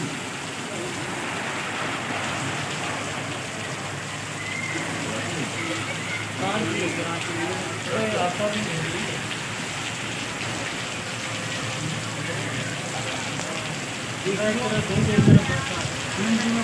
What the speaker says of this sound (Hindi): काफ़ी ज़ोरदार बारिश